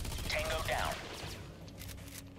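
Rapid full-burst automatic gunfire in the USC Counterforce video game, loud and dense for the first second, then continuing as a lighter, sparser crackle with game sound effects.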